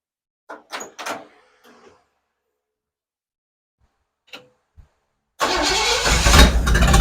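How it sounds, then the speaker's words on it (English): After a few clunks and knocks and a stretch of quiet, a car engine suddenly catches and roars to life, running loud and rough up close. "Let me turn the engine over"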